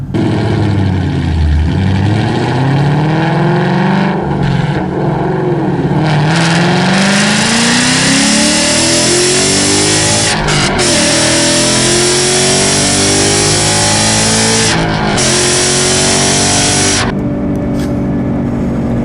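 A 2015 Ford Mustang GT accelerating hard, its engine pitch climbing steadily through several gear changes with brief dips at each shift, loud and close throughout.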